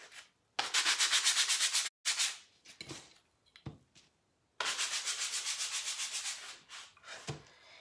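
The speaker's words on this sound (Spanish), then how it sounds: "las voy a lijar" Sandpaper rasps back and forth over small wooden pieces from a steampunk picture kit in quick rhythmic strokes, several bursts separated by brief pauses, close and fairly loud.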